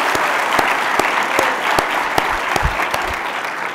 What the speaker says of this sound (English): Please give him a huge round of applause for everything he does.